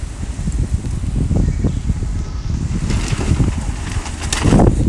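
Strong wind rushes across an open area in the PUBG video game, a loud, continuous gusting roar with swelling bursts toward the end and no voices.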